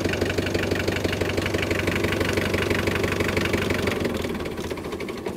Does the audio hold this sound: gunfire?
no